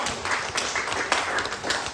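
A short burst of audience applause for a speaker at a university talk on autism in the workforce, steady close clapping from a room full of people for about two seconds.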